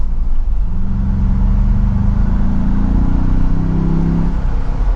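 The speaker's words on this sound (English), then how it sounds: "Honestly, not bad for a mild acceleration." 2024 Ford Bronco Big Bend Sasquatch engine under mild acceleration in normal drive mode, heard from inside the cabin as a steady low rumble with a gradually rising engine tone over constant road noise.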